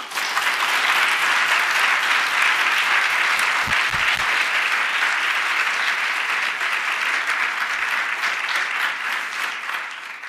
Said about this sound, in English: asked the rest of us to applaud the current staff of the Legal Services Center